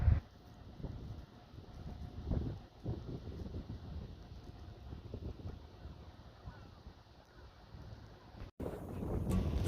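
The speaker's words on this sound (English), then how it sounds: "quite bitterly cold and quite windy" Gusty wind at 2 degrees buffets the microphone on a bike ride along the Wirral Circular Trail, an uneven, rumbling rush, moderately loud, with a brief cut near the end.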